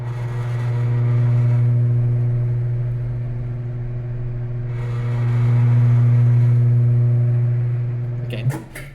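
A Fikse FM10 three-piece wheel fitted with a Toyo R888R tire spins on a tire machine, producing a steady motorized whir that swells and fades twice, ending with a few sharp clatters.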